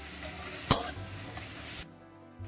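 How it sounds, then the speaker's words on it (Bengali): Garlic paste frying in a pan over medium heat for a goat meat curry: a steady, fairly close sizzling hiss with one sharp clatter early on, then the sizzle cuts off abruptly near the end. "এবার আমি রসুনের পেস্টটা দিয়ে দিচ্ছি।"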